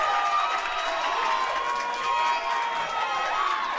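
Crowd at a live wrestling event, a continuous roar of cheering and shouting voices with a few excited yells rising above the din, sustained and fairly loud across the whole few seconds.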